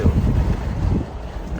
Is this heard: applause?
no